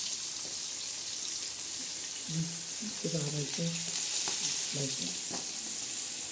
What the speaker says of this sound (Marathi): आपली मच्छी तळत आहे मस्त अशी खमंग मच्छी